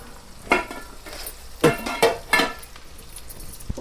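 Poha is stirred and roasted in a pan, with a spoon scraping and clinking against the metal in four or five separate strokes over a faint sizzle.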